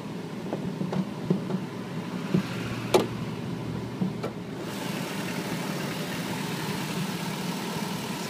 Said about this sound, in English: The engine's nice and quiet.